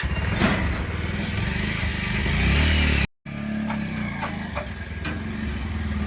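A motorcycle engine chugs nearby, rising in a steady roar before a brief cut, then idling and clattering on at moderate loudness without speech.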